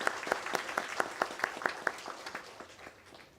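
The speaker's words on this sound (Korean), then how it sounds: "우리 김인수 안수 집사님 축하한다는 의미에서 다 같이 박수로 하겠습니다." A congregation at a Sunday church service claps in steady unison rhythm, about a dozen distinct beats over a softer wash of applause, then trails off quietly.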